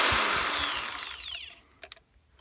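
A Mac Allister 600W hammer rotary drill whirs loudly at close range, its pitch sliding downward as the motor spins down, followed by a few faint mechanical clicks and knocks.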